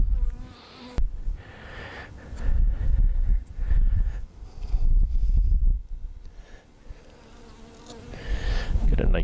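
A bee buzzes loudly close by, its drone rising and fading as it circles around, with some rustling handling noise.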